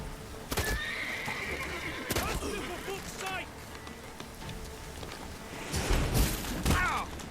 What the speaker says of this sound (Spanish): Mira el caballo.